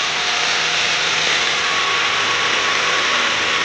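A Honda Civic EX Coupe with a JDM GSR VTEC engine runs steadily, giving a continuous, even, fairly loud mechanical drone with a bright hissing intake edge and no voices.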